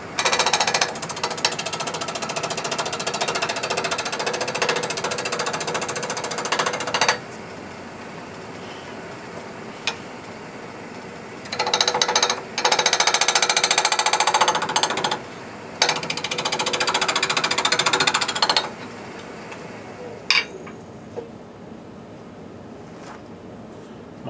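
A wood lathe at full speed gives a loud, steady mechanical whine, with harsh scraping bursts that come and go as the cutting tool bites into a four-sided wooden jar.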